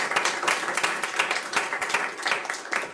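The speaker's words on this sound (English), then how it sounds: "Let's give them a round of applause." Audience applause for panelists at a research infrastructure user group meeting: a dense, steady round of hand clapping from a full room, sustained for the whole stretch with no speech over it.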